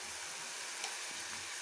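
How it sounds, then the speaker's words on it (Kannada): Tomato masala with coriander powder frying for egg bhurji, an even, continuous sizzle with a faint scrape of the spoon partway through. "ಹಾಗೆ ಸ್ವಲ್ಪ ಧನಿಯಾ ಪೌಡರ್ ಅನ್ನು ಹಾಕಿ ಇವಾಗ ಚೆನ್ನಾಗಿ ಫ್ರೈ ಮಾಡ್ಕೊಳ್ಳಿ."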